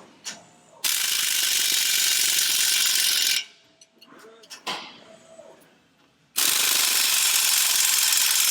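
A ratchet tightens the nuts on a 2019 Corolla Hatchback being lowered, two long, loud bursts of rapid clicking close by, separated by a quieter stretch of small knocks and handling sounds.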